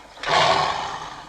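Tiger on a film set letting out a single loud, rasping roar that starts abruptly and trails off over about a second.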